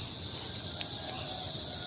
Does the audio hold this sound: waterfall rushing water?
no